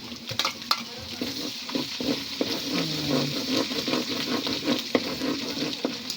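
Garlic sautés in a pan with a continuous sizzle, while a utensil stirs and scrapes in irregular clicks and knocks close by; no one speaks.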